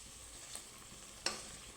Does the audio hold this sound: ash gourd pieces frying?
yes